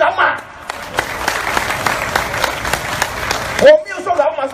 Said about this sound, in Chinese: 所以我们给一个掌声，老马